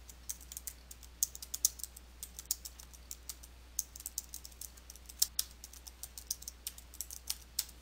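Text typed on a computer keyboard: a steady run of light, quick key clicks with irregular rhythm, close and fairly quiet, over faint background hum and no talk.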